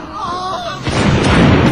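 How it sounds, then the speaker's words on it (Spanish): Artillery fire in a depiction of the 1808 Second of May uprising in Madrid: a heavy, close boom bursts in after a moment of quieter sound, followed by a loud rumbling roar. "los españoles replican con fuego de artillería."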